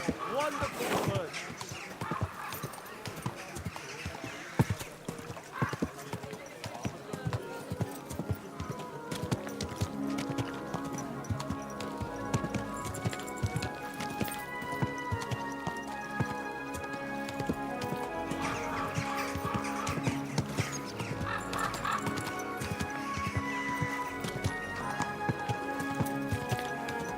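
A horse gallops with fast, close hoofbeats in the medieval game Kingdom Come: Deliverance II. The pounding is continuous, with game music and occasional voices layered over it.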